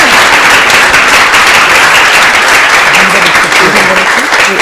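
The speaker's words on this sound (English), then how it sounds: "So let's give a round of applause to him." Sustained applause from an audience at a Vyasa puja celebration, dense and loud throughout with a steady wash of clapping and some voices mixed in.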